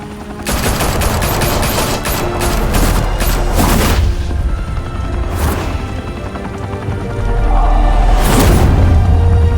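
Dense gunfire erupts in Batman: The Telltale Series, a loud sustained fusillade of rapid automatic shots with heavy booms and crashing impacts, close and overwhelming throughout.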